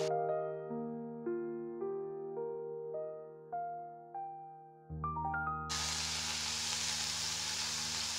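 Spinach stir-fried in a pan sets off a loud, steady sizzling hiss in the last few seconds, following a stretch of music with no cooking sound.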